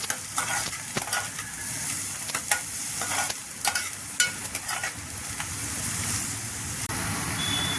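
Chopped onions sizzle in oil after cumin seeds have crackled, for Maharashtrian moong dal amti, with a steady fry broken by repeated sharp clinks and scrapes of a stirring spoon against the pan.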